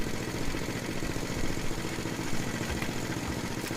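A Murray Estate 8/27 dual-stage snow blower engine idles steadily at no load, a close, continuous mechanical clatter with a slightly wavering, bouncing speed and no pauses.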